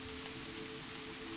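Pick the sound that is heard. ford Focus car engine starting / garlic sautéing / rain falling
rain falling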